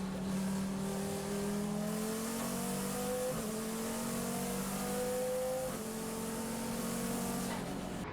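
Number 26 KTM X-Bow race car circling the Slovakia Ring during a three-hour GT endurance race, its engine droning steadily with gear-change steps in pitch, heard at a distance under continuous track ambience.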